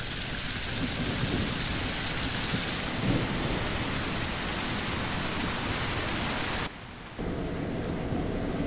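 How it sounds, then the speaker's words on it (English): Steady rain from the Trailcam video game, a dense, constant hiss that holds close and fairly loud throughout, briefly dropping out for a moment near the end before resuming. "Oh, it's starting to rain."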